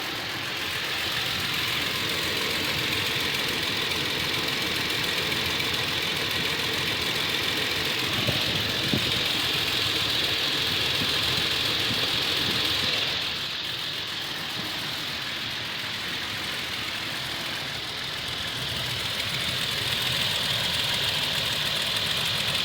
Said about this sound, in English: I think it's a valve or bad lift